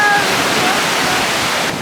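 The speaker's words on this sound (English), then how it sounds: "Pretty big waves out there today." Big waves on Lake Michigan wash in a continuous broad roar, steady and fairly loud, blended with wind rumble and no clear break in the surf.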